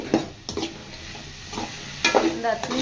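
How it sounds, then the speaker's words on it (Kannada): Pumpkin pieces and pigeon peas are stirred in a hot pan of seasoning, giving a few scraping spoon strokes over a soft sizzle, close and fairly quiet, with no talk. "ನೋಡಿ, ಇವಾಗ ಈ ಥರ ಮಿಕ್ಸ್ ಮಾಡ್ಕೊಂಡು"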